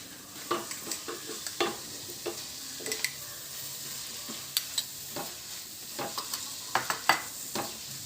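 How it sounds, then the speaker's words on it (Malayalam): Crab roast fries Kerala style in a pan, a soft continuous sizzle broken by many small scraping and tapping stirs of a spoon, fairly quiet and close. "നമുക്കിനി ഇത് വേവുന്ന വരെ നന്നായിട്ട് ഇളക്കി കൊടുക്കണം"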